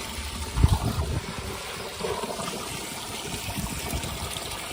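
Water trickles and splashes steadily into a cooking pot for soaking rice for a large chicken biryani, with a brief louder gush near the start, close by and without speech.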